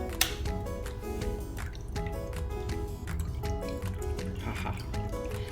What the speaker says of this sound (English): So you can hear the noise of this water.